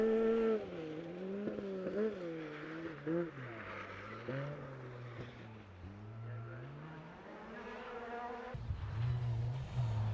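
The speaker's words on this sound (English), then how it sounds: "9 seconds over Tony Simpson in the Fiesta R2 with that 1600 engine singing for all of Greystoke to hear" A Ford Fiesta R2 rally car with a 1600 engine races along a forest stage near Greystoke, its engine revving high and rising and falling through gear changes in a sustained, singing whine at moderate distance.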